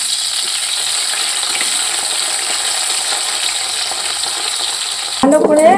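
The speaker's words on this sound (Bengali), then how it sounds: "বেগুনটা আগে ভেজে নেব।" Eggplant frying in hot oil in a home kitchen, a steady bright sizzle that holds evenly throughout, with a sharper clatter of stirring or utensil contact right at the end.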